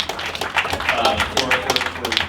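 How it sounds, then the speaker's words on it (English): Audience applause for speakers at the close of a panel Q&A, a small group clapping in scattered, uneven bursts, fairly close, with some talk mixed in. "Big applause for Yeah, Tyler"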